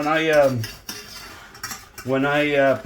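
Pancakes being flipped in a hot pan on Christmas morning: a spatula scrapes and squeals against the pan in two drawn-out passes, with a sharp clink of metal between them.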